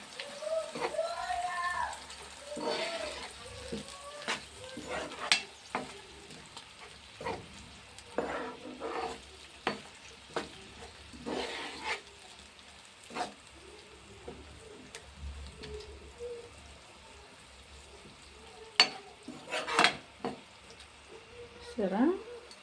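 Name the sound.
masala paste frying and being stirred in pan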